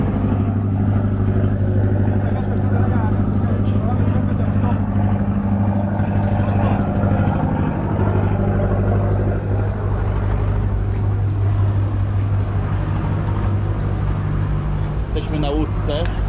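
Loud, steady engine drone of a glass-bottom tour boat underway, a constant low rumble with a broad wash of water and hull noise; people talk over it near the end.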